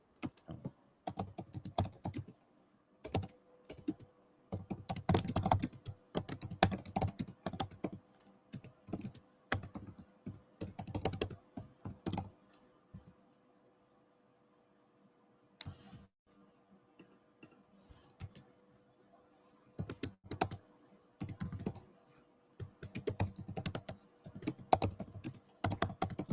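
Computer keyboard typing in irregular bursts of rapid clicks with short pauses, fairly close and clear, against a quiet room background.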